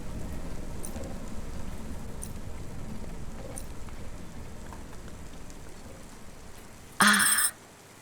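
Steady rain falling in the rainy city of the Cloudpunk video game, a continuous soft hiss with scattered drops, broken near the end by a brief loud burst of another sound.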